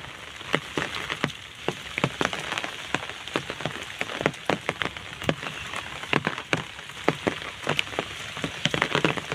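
Rain from a low-pressure system falls in Angul, Odisha, a soft steady patter with many distinct drips and splashes landing close by at a gentle, irregular pace.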